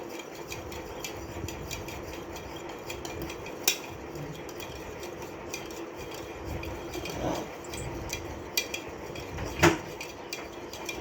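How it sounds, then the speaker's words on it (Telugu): Thick curd being mixed in a bowl for a summer drink, giving quiet wet stirring with occasional light clinks of a spoon against the dish, close and low, with no talking. "ఇప్పుడైతే నేను మిక్స్ చేసుకుంటున్నాను."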